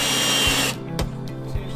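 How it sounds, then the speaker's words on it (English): A power drill bores into wooden furring strips inside a van during a conversion build, whining steadily and then dropping to a lower, uneven grind with a few sharp knocks. "So we're gonna drill instead of glue, and so let's do it."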